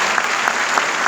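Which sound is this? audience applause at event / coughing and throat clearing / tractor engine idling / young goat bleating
audience applause at event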